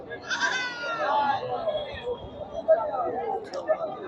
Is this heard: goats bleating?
yes